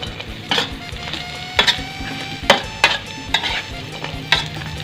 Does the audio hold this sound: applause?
no